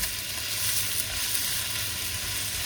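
Noodles cooking in a hot pan, a bright, steady hissing sizzle that stays loud and even with faint stirring underneath.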